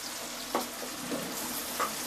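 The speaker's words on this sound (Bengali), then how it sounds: "এবার এটাকে নাড়বো।" Onions for chicken biryani fry over high heat while being stirred in a pan, an even sizzle with three quick soft scrapes of the spoon.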